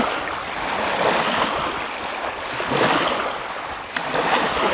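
An AC100 eXtreme boat circles over sea waves at its launch, with continuous rushing water and wind noise that swells and eases in broad surges, loud and close, with no talk.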